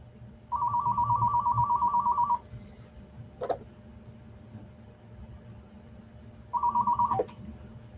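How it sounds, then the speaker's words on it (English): A telephone rings twice, each a loud warbling electronic trill lasting a couple of seconds, separated by a gap with a brief click and a low background hum. "Oh, I think we might have a phone call."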